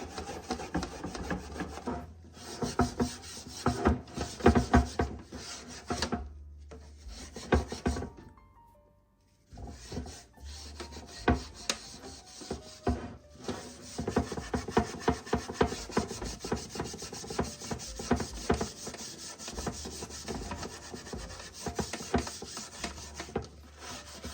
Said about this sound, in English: Just get scraping some of it there.